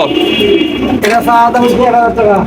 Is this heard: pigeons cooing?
yes